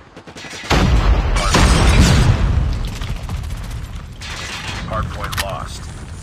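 Grenade explosion with a heavy boom, then scattered gunfire and mechanical clatter in Call of Duty Mobile, loud and close, with game voice callouts over it.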